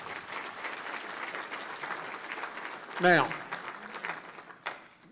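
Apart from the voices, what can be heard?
audience applause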